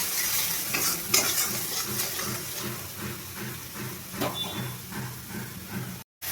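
Onion with salt fries in a pan for a raw banana kofta curry, a soft steady sizzle broken by scraping stirs of a spoon, fairly quiet and close, with a brief dropout near the end.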